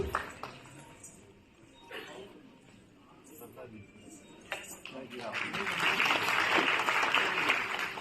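An audience at a National Voters' Day ceremony at Chhatrapati Shahuji Maharaj University applauds. The clapping starts faint and scattered, then swells into loud, sustained applause over the second half, with voices in the room.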